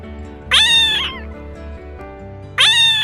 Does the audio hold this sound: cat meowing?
yes